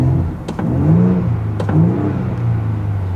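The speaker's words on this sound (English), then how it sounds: "And the exhaust on this thing is not really all that good." A 2025 Ford Bronco Raptor's exhaust revs close by in two quick rising blips over a steady idle rumble, loud and unaccompanied by talk.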